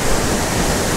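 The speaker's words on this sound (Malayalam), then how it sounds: "ആ ഇതാണ് അടുത്ത വെള്ളച്ചാട്ടം എന്ന് പറയുന്നത്" Sulthana waterfall in Kerala roars steadily up close, a dense, loud rush of falling water with no voices.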